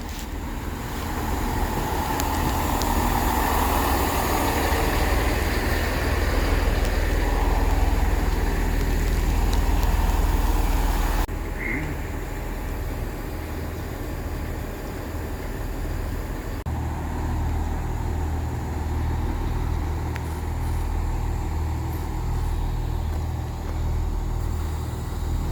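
A gathering of buses in Exmouth idles together, producing a steady low engine rumble and traffic drone that shifts in level partway through, with no talking.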